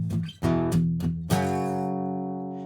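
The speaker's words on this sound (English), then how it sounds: "So I'm taking my palm and I'm resting it on the bridge right here to get that muted sound." Palm-muted power chords on guitar, a few short choked hits followed by a longer ringing chord that sustains and fades, played fairly close.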